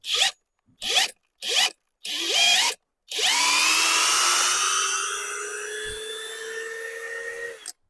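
A Grosser GCD 161KBT cordless drill whirs in short bursts, then runs in a long continuous high whine in second gear that slowly drops in pitch before stopping.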